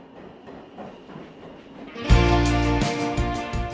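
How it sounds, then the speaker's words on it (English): Screeching, rolling New York City subway rails cut in loudly about two seconds in, layered into a song over swirling acoustic guitars and staying dense and harsh to the end. "the rolling, crazy, screeching rails of the New York City subway"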